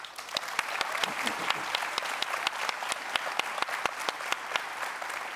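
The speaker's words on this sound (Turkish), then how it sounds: "bir kere de alkış hak ediyorsun" A studio audience on a Turkish talk show applauds steadily, with a dense wash of clapping and a few sharper individual claps standing out, sustained throughout at an even level.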